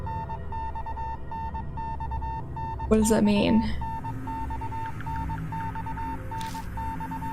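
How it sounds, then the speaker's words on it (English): Morse code beeping in the video game Death Mark: one steady mid-pitched tone pulses in a repeating pattern of short and long beeps throughout, with a voice briefly speaking over it partway through. "The sequence dash dot dash dot dot dash just keeps repeating its code."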